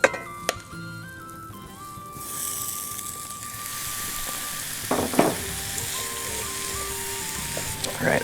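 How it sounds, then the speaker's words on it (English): Spicy pork sausage frying in melted beef tallow crackles and sizzles steadily, building after a metallic clink at the start, with a couple of louder clattering bursts midway. "we're going to cook our spicy pork sausage in the tallow"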